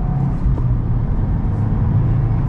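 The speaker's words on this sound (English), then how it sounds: "let's set off now in the new WRX." A 2022 Subaru WRX with a manual gearbox pulls away from a stop, its engine giving a loud, steady low drone from inside the cabin for a couple of seconds.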